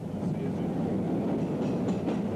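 A New York subway D train rumbles past in a steady, loud low roar with faint rail clatter, continuous throughout and no talking.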